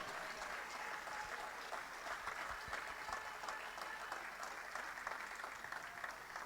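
A crowd claps and cheers in a continuous wash of applause, steady and fairly distant, with no break in the noise.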